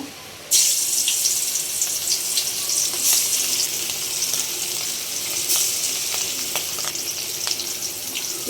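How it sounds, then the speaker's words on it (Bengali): Hilsa fish slid into hot oil in a wok bursts into a sudden loud sizzle, then keeps up a steady, bright spattering hiss with occasional pops, close and alone. "মাছটা দিয়ে দিব।"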